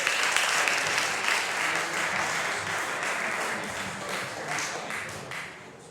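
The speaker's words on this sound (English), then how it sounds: "Thank you so much for your applause, everyone" Applause from the audience at a young theatre organist competition, a steady, fairly dense round of clapping in a hall that slowly thins out.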